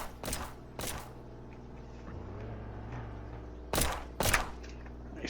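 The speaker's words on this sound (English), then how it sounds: "We are under heavy fire." Gunfire in the Flashing Lights police game during a highway patrol shootout: two sharp shots open the clip and two more follow near the end, loud and close over a steady engine drone.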